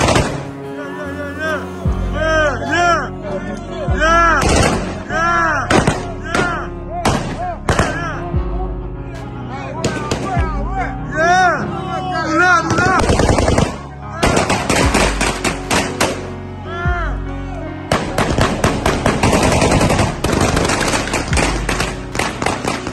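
Armed men fire guns in rapid, loud bursts and single cracks, with dense volleys through most of the stretch and voices talking and shouting over the shooting.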